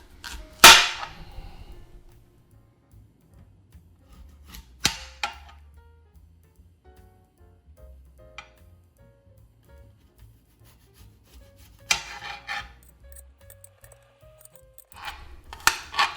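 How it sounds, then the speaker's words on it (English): A knife dices an apple on a cutting board: sparse, sharp chops and taps scattered over the stretch with quiet gaps between bursts, close and fairly crisp, no talking. "I am gonna dice this one up kind of small"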